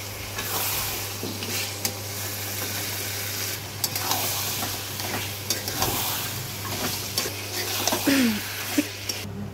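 Meat pieces go into spice masala already fried in a pan, bringing a sustained sizzle over a low steady hum, with scattered stirring knocks and a brief faint voice near the end.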